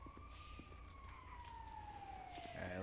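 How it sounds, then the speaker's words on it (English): A wailing siren in GTA V sweeps slowly downward in pitch, faint and distant at first, over low background rumble, growing slightly louder toward the end. "Okay, I hear sirens"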